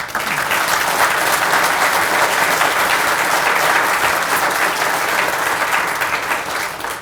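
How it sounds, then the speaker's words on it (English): Loud, steady applause from an audience at a corrections department event, a thick, continuous roar of many hands clapping that holds evenly and then tapers slightly at the end. "I hope you would join me in giving him a round of applause"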